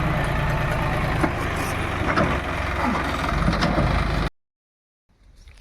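Heavy loader engine idling and working at a village site, a steady low rumble with faint clanks throughout, then cutting off abruptly into silence near the end.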